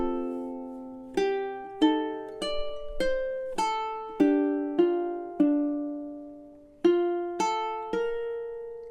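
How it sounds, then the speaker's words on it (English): A solo high G ukulele played fingerstyle, picking out the melody of Danny Boy: about a dozen clear plucked notes and chords, each ringing and decaying, at a slow, even pace with brief pauses between phrases. "a solo high G ukulele arrangement of Danny Boy"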